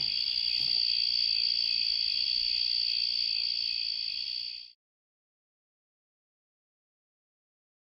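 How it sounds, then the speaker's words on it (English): A cricket chirping sound effect plays as a steady, shrill, continuous trill close up, holding for about four and a half seconds before cutting abruptly to silence. "Do you want to just go out on the cricket sound?"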